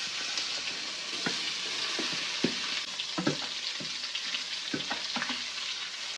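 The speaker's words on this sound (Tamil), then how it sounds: "கடுகு போட்டுக்கலாம், அதுக்கு கறிவேப்பிலை போட்டுக்கலாம், மிளகுடி போட்டு பெரட்டி வச்சா மாங்காய் போட்டுக்கலாம்." Mustard seeds, curry leaves, chilli powder and raw mango fry in a hot pan for a sweet and spicy mango curry, giving a steady close sizzle with scattered sharp crackles and pops, and no talking.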